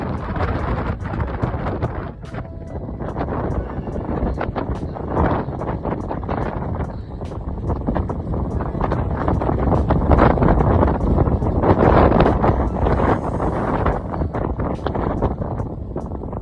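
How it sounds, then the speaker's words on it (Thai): Strong wind on the mountain at Mulayit roars and buffets steadily against tents, with constant gusty rumble and flapping rattles throughout, loud and close. "เนื่องจากว่าลมแรงมากๆค่ะ"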